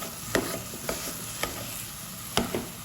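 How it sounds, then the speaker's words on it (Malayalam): Steamed nendran bananas are mashed in a pan, giving a handful of sharp, close thumps and soft squishes spaced irregularly over a low background hiss. "ഇനി ഇതിനെ ചെറുതായിട്ടൊന്ന് ഇതുപോലെ ഇടിച്ചു കൊടുക്കാം"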